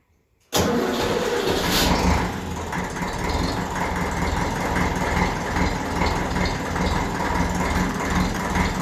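A 1954 Ferguson TEF diesel tractor engine cranks and fires abruptly after a moment of quiet, then settles into a loud, steady, close-up diesel idle that continues with its rhythmic knocking.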